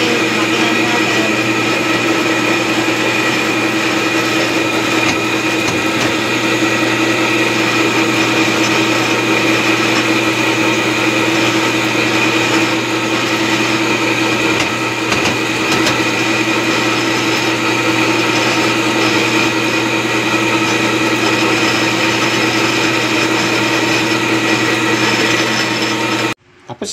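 Electric blender whirring steadily as it mixes a coffee drink, a loud, constant motor hum with a high whine running unbroken for nearly half a minute before cutting off abruptly.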